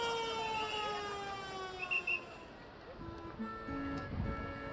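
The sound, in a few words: siren signalling Yeongdo Bridge lift, Busan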